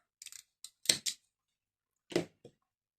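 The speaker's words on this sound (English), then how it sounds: "And then you can cut this little tail off." Scissors snip the yarn tail of a crocheted sunflower keychain, a few short, crisp close-up cuts in two clusters against an otherwise quiet background.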